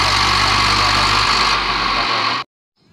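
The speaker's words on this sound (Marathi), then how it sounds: "तर मित्रांनो आपला ट्रॅक्टर निघालेला आहे." A Swaraj tractor engine runs loudly and steadily close by, a continuous droning rumble that cuts off abruptly near the end, leaving near silence.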